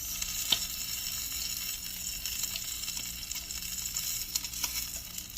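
The fatty side of a pot roast sears in a hot pan, giving a steady, close sizzle and crackle with a few sharper pops and no voices.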